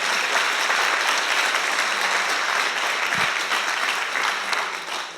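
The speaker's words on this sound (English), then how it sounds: "a big round of applause for them as well" Sustained applause from a university audience at a 2012 Three Minute Thesis competition fills the room with dense, steady clapping at a fairly loud level, tapering slightly near the end.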